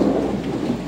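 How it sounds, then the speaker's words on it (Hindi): Thunder rumbles low and continuous through a rainstorm, the rain hissing steadily beneath it, loud and without any talk. "बिजली कड़क रही है"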